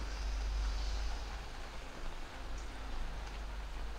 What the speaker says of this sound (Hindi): तो आज आप देखो बिल्कुल बारिश है